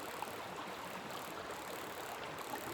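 Water is swished and agitated in a gold pan in Colorado, a steady, faint wash of splashing and trickling with no talk.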